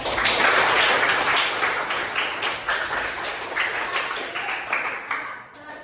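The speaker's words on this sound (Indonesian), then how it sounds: "Tepuk tangan untuk kita" Students in a classroom coding lesson clap together, a lively, steady round of applause that holds strong for several seconds and then tapers near the end.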